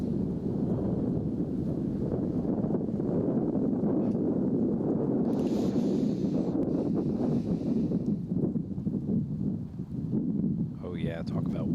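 Wind gusting across a golf course during a tournament round, a steady roar buffeting the microphone for the whole stretch, with commentators talking over it.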